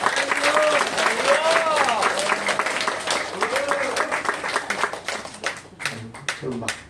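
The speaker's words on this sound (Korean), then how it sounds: "우리 목사님 나올 때 여러분 박수로 환영하겠습니다." Congregation in a Korean church applauding to welcome the pastor to the pulpit, dense steady clapping close by with voices and cheers rising through it, thinning toward the end.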